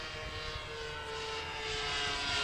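RC model airplane powered by an OS FX .61 glow engine flying overhead, a steady buzzing drone that swells slightly louder toward the end, heard alone without voices.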